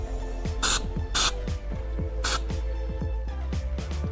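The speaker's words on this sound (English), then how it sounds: "Use some of CRC's finest throttle body intake cleaner." CRC throttle body intake cleaner sprayed from an aerosol can onto a car's throttle body, three loud short hissing bursts over a steady low engine hum with rhythmic clicking.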